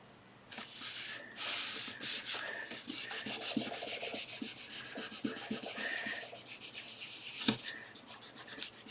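Paper being rubbed down flat by hand during envelope crafting, a steady dry scraping and brushing that runs continuously at close range with short rhythmic strokes, no talk over it.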